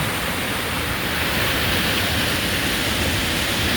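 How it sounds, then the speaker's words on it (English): Floodwater from heavy rain pours over an overflowing farm pond dam like a waterfall, making a dense, steady roaring rush close by with no voices. "Really nice, pretty waterfall"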